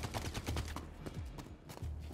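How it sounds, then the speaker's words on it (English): Gunfire from guards in the Star Citizen game, a dense rattle of rapid shots clustered together, fairly loud and continuous over a brief stretch with little pause. "Guards at Grim are shooting at me already."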